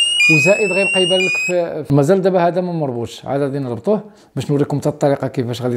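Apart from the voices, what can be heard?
smart door sensor anti-theft alarm sounding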